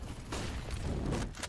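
Dense spray of rifle fire from a Counter-Strike match, a steady rattle of shots running nearly throughout at close range with no voices present.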